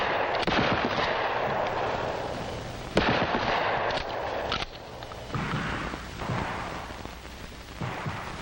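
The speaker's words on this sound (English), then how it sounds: "Offhand aimed fire is best suited to longer ranges." Shotgun blasts at a law enforcement training range, a few loud booming reports with long echoing tails, spaced seconds apart with no talking.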